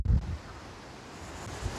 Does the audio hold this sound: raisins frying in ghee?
no